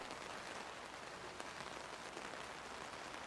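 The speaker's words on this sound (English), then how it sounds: "There's like a buildup of rain." Steady rain from a sound design piece falls continuously in a dense, even hiss, holding at a constant loudness throughout with one brief sharper drop-like tick near the middle.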